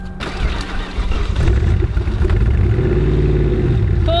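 A GM LS V8 in a Blazer build cranks and fires up with a stuck throttle cable, settling into a steady, loud, low idle rumble that never climbs in revs.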